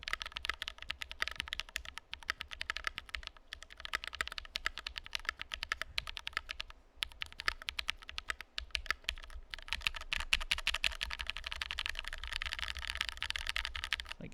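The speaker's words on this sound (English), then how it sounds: "Like it is a very solid typing experience" Fast, continuous typing on an E-White Think 6.5 mechanical keyboard with an integrated plate. Crisp, close key clacks patter in an uneven rhythm for about fourteen seconds, with one brief pause partway through.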